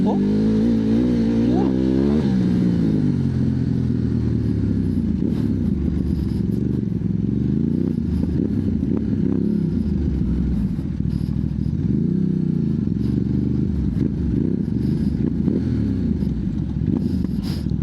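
Ducati DesertX motorcycle engine droning steadily while riding off-road over bumpy ground at an adventure camp, with low rumbling revs rising and falling and occasional clatter, heard alongside a rider's voice.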